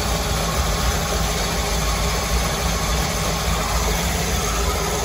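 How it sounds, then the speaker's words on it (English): A boat's inboard engine runs at a steady idle with its belt-driven antifreeze pump and raw water pump spinning, a loud, even drone with no talk over it. "The engine, antifreeze pump spinning. Raw water pump spinning."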